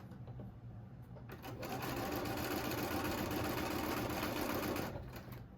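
A sewing machine runs steadily as quilt block rows are chain pieced, a dense close mechanical whir building up after a brief start and easing off near the end, with no talk.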